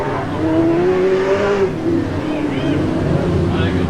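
Grand National sedan race cars roar around a track at a Heat 4 race, one engine note climbing and falling in pitch as cars pass close by, with a commentator talking throughout over the loud, continuous engine noise.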